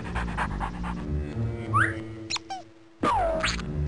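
A cartoon dogfish in the Freddi Fish PC adventure game pants eagerly over a rubber ducky toy, with quick breathy bursts, springy boing-like squeaks and short chirps set against steady background game music.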